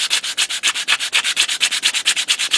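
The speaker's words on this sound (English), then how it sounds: "I'll just put it on a sanding block." Persimmon golf club head rubbed back and forth on a sanding block, a fast steady rhythm of about twenty gritty hissing strokes, close and loud with no voices.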